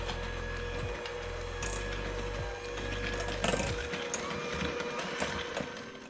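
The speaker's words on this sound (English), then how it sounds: "I'm going to use the hand mixer to mix this 60 grams of sugar and this 1 egg all together." Electric hand mixer beating sugar and one egg together, a steady motor drone with rattling, clicking beaters against the bowl; the low motor tone cuts out partway through, leaving lighter clatter.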